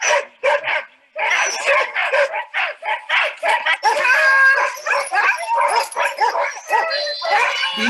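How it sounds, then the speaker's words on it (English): A pack of sled dogs near Whistler, British Columbia barks and yips excitedly in rapid overlapping bursts, loud and close, with whines and high-pitched cries mixed in. "These dogs love to run. This is what they live for."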